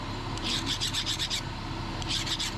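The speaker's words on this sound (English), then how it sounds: "Kind of want to put a file on it first and see what it looks like." A file rasping across a stainless steel knife blade in short back-and-forth strokes, two close bursts of rhythmic scraping separated by a brief pause, near and fairly loud with no talking.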